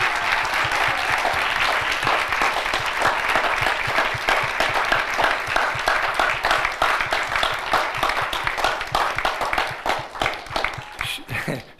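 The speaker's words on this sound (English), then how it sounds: "give her another round of applause" Audience applause at a kirtan festival celebrating Gaura Purnima, with loud dense clapping that goes on steadily and then thins out and fades near the end.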